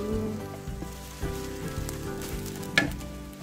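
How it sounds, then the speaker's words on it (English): An egg fries in a hot pan, giving a steady close sizzle and crackle, with a few soft scraping or tapping touches and a brief sharper clack near the end. "spread out the egg and then flip it over one more time"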